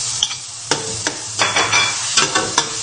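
Carrots hit a hot pan and are stirred while frying for Bukhari rice, with a steady close sizzle punctuated by repeated scraping strokes of a utensil against the pan.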